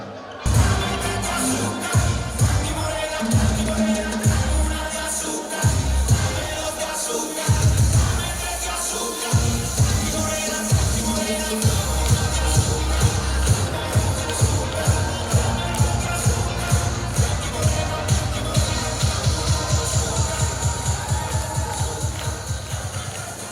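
Applause and cheering from a school festival crowd for a high-school class at a carnival awards event, loud and sustained, with music or rhythmic stomping pulsing underneath and fading slightly toward the end.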